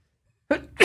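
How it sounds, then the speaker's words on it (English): A single sharp human sneeze from someone who is sick, bursting loud and close after a moment of silence, with a quick inhale followed by the explosive release. "Sorry, I'm about to sneeze."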